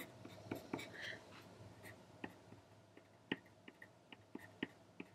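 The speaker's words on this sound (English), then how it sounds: "So I'm just going to draw little white snowflakes all over." A white pencil draws small snowflakes across dark paper for a paper fan craft, making faint, close scratchy strokes broken by a run of light, irregular taps in a quiet room.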